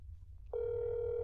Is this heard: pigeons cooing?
no